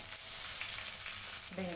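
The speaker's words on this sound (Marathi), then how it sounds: "तेल गरम झालं त्यावर टाकायची भेंडी" Okra sizzling and frying in hot oil on a griddle, a soft steady hiss throughout with a brief voice near the end.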